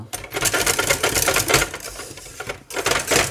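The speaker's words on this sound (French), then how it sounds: "on fouette très fort. Il faut vraiment fouetter." Pastry cream is whisked hard in a pan, making a loud, rapid, clattering stream of whisk strokes against the metal with one brief pause. No one speaks.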